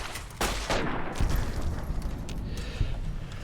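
Explosive blasts from a grenade launcher in the Fallout: New Vegas video game, a sharp boom followed by a rumbling roll of impacts and gunfire-like bursts, loud and sustained through the short stretch.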